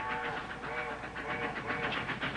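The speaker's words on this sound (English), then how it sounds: "It's Grandpa's train. It's taking him home. It's his signal, remember? 2 long, 3 short." A passenger train rolls past with a steady, heavy rumble and a rhythmic pulsing clatter. Faint sustained tonal notes ride over the noise, all continuous and fairly close for a couple of seconds.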